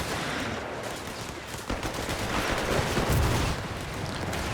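Machine gun bursts rattle through a Company of Heroes 3 battle, dense rapid gunfire layered with heavier booming shots, continuous and loud, with a thicker blast near the end.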